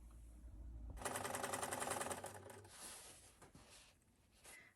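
A sewing machine top-stitches fabric on a scrap-fabric drawstring bag, a fast steady needle rattle running about a second and a half, then stopping and leaving faint handling noise.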